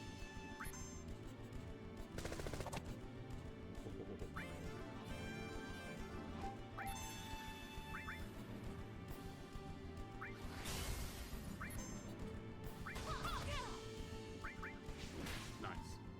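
Barret's Big Shot attack from Final Fantasy VII lands with sharp crashing impacts amid game effects and music, while voices talk over the action.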